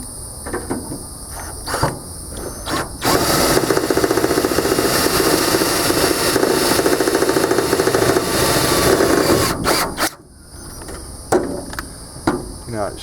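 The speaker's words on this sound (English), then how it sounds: "I'm using self-tapping screws because I'm screwing into metal." A power driver sinks a self-tapping screw into metal while a subpanel is installed. A loud, steady whirring run lasts about seven seconds, framed by clicks and handling noises before and after.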